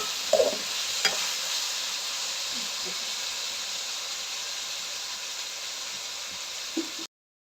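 Onions and tomatoes fry in a pan for a home-style Jaffna curry, giving a continuous soft sizzle and hiss with a few clinks of a stirring spoon. The sound cuts off at the end.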